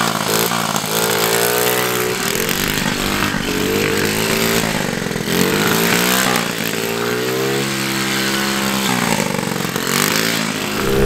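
A Honda moped engine runs steadily for about eleven seconds, a buzzy two-stroke drone with small rises and dips in revs, close and loud with no talking over it.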